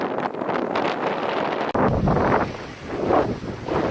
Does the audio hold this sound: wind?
yes